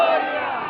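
A crowd at a Govinda festival on Narli Purnima raises a loud, short shout of a slogan in unison, a brief burst of massed voices close by.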